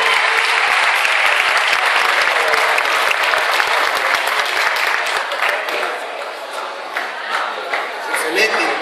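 Loud, dense applause from a crowd at a costume and dance competition, sustained for several seconds before easing slightly toward the end, with some crowd voices mixed in.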